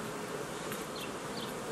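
Honey bees buzz steadily at a hive, a dense, continuous drone of many insects close by with faint individual bees passing, no voices.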